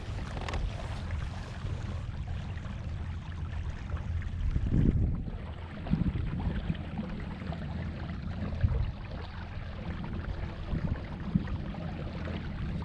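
Kayak fitted with a homemade electric trolling motor cruising at about 5.5 on open water, a steady low hum with faint water wash and light wind buffeting, no talking.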